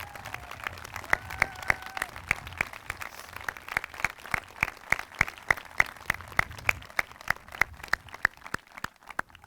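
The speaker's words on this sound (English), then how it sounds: "let's give them a round of applause for thank them for what they do for our country" Audience at a veterans memorial dedication ceremony in Andover, Minnesota applauds active duty service members, a sparse, steady patter of individual claps spread through the crowd at moderate distance, continuing evenly throughout.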